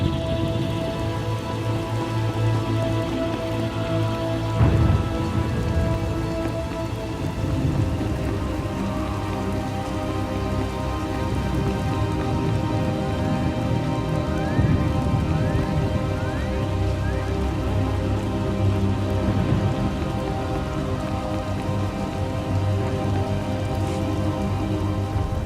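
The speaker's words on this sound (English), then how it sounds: "Hard to track them through the storm." Continuous heavy rain from a video game storm in SWTOR: Knights of the Eternal Throne, pouring down with a steady dense hiss and low rumble, unbroken for the whole stretch, no speech.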